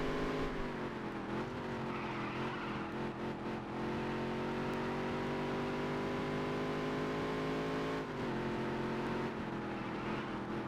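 A Featherlite Modified race car engine in the racing game Dirt to Daytona drones loud and steady, its pitch climbing slowly, with a few short lifts and dips as the throttle eases off through the corners.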